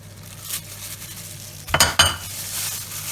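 A spoon stirs flour into syrniki batter made from homemade cottage cheese, giving a couple of brief scraping, clinking strokes against the bowl amid quiet kitchen background.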